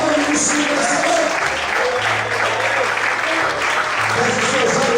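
A church congregation claps loudly and continuously during an evening worship service, with sustained music and voices carrying beneath the applause.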